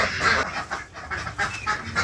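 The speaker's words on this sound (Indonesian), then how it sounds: "bebek petelur jenis Hibirida," Hybrid laying ducks at a duck farm quack and honk in a dense, overlapping chorus of repeated calls, loud and close, with no voices over them.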